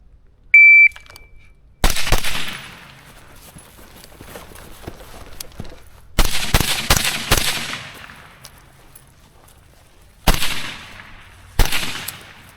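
Rifle gunshots ring out at an outdoor shooting range, a brief electronic beep followed by loud, sharp reports in clusters, some in quick succession, each trailing off into quiet between strings of fire.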